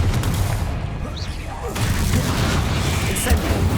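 A booming fiery explosion spell goes off in the Hogwarts Legacy video game, with rumbling blasts and crackling bursts layered thickly over a spoken voice.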